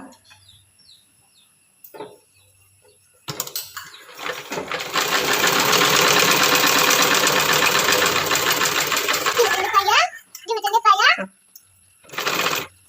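A sewing machine stitches the hem of a pair of pants in one steady, close, rapid run lasting several seconds, with quiet handling sounds and speech before and after.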